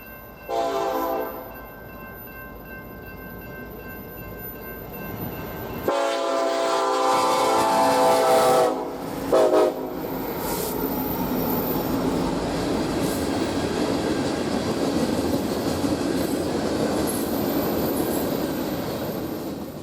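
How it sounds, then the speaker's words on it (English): An eastbound manifest freight train on the Sydney subdivision near North Platte, Nebraska sounds its horn, then rumbles past with a loud, sustained roar of rolling cars that continues steadily to the end. "An eastbound train has a clear signal along the Sydney subdivision."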